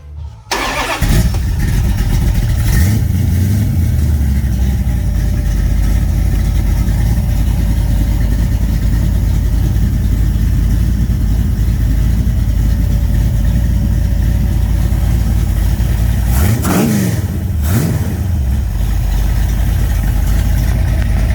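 A rebuilt Mopar 360 V8 with Summit mufflers and headers cranks and catches, then settles into a loud, steady idle with a rumbling low end, with a couple of brief revs near the end.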